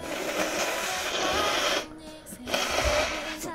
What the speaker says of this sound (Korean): 너무 마이크 안 끄고 코 푸는 거 아니냐?